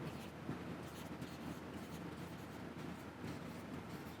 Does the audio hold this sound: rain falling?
no